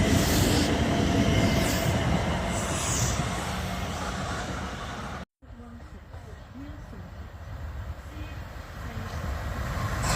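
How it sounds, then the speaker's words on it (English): A South Western Railway passenger train from London Waterloo to Portsmouth Harbour rumbles past close by in southern England, loud and continuous with wheel and rail noise, briefly cutting out midway before the roar resumes. "They're heading on the 1813 South Western Railway service from London Waterloo to Portsmouth"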